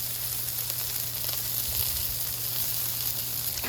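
A buttered patty melt toasts on a Blackstone flat-top griddle, giving a steady, close sizzle with a low hum underneath, continuous and even throughout with no voices.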